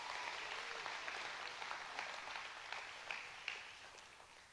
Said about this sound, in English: I want to give him a clap of hands